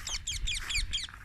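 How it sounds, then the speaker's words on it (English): A flock of parrots in rice fields near an ancient village in Kuliyapitiya, Sri Lanka, lets out a quick series of about five sharp, raspy chirps in close rhythm, moderately near. "So this is quite a bigger flock of parrots, right?"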